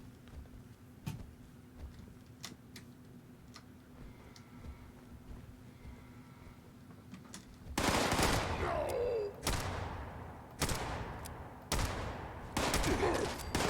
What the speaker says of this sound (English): Who is shooting at me there?